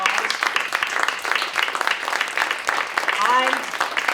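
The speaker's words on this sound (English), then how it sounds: "Would you please stand so we can give you a round of applause?" Audience applause at a public forum on wireless radiation safety in Tucson, Arizona, a steady round of clapping from a seated crowd, with voices and a brief vocal sound rising over it near the end.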